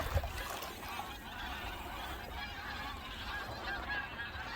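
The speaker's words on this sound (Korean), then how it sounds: "혹시 새소리 들리나요?" Geese honking outdoors over a steady wash of water and ambient noise, the calls blending into a continuous background chorus.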